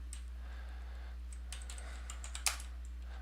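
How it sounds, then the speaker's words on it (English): Typing on a computer keyboard, faint scattered key clicks over a quiet room hum, thickening into a short run of taps with one louder keystroke near the end. "I'm so glad you're typing out."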